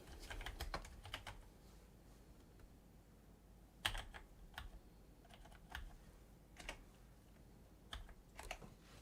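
Typing on a computer keyboard during a live chat, heard as scattered bursts of clicky keystrokes at a moderate distance, coming in short irregular clusters over a low steady background hum with no talking.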